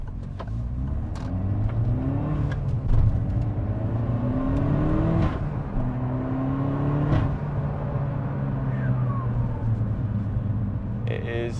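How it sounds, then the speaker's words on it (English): A Peugeot 308 GTi engine runs steadily at idle with a few gentle rises in revs, producing a close, continuous low hum and rumble with occasional faint clicks. "A lovely little motor."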